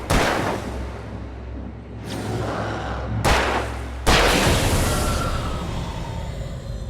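Alan Wake video game gunshots ring out as several loud, sharp blasts with long, echoing decays, spaced a second or so apart.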